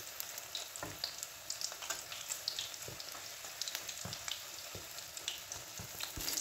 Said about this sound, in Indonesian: Jadi pempeknya ini saya goreng dulu ya